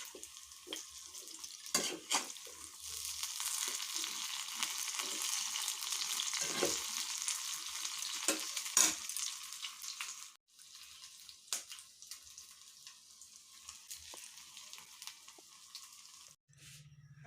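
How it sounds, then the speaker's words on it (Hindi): Hot oil sizzles in a pan while tempering for Bihari kach sabzi, a quiet steady frying hiss with scattered stirring clicks and scrapes heard close, with no voices. "अब देखिए ये तेल गरम हो चुका है।"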